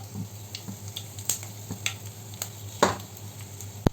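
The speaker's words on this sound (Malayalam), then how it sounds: "കടുക് പൊട്ടി വരുന്ന സമയത്ത് നമുക്കിതിലേക്ക് ഉണക്കമുളക് 2 പൊട്ടിച്ചത് ഇട്ട് കൊടുക്കാം" Mustard seeds and broken dried red chilies sizzle and pop in hot ghee while Kerala-style onion rice is prepared, with a steady low frying hiss and scattered sharp crackles and spits close by.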